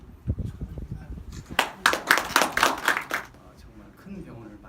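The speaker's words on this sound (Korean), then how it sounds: "뜨거운 박수" A small audience claps at a Korean industrial management society event, a short burst of scattered hand claps that swells for about two seconds and then dies away, with speech and room noise around it.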